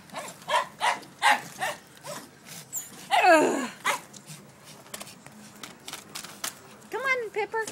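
Several dogs in a small cottage bark and whimper in short bursts, loud and close, with a whining yelp mid-way, mixed with people talking over them.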